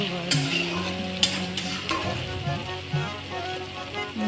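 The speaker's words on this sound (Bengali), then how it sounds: "পেঁয়াজগুলো বেশ লাল লাল নরম করে ভেজে নেব।" Onions sizzle in hot oil while being stirred, with steady frying crackle and a few sharp scraping clinks of the utensil against the pan.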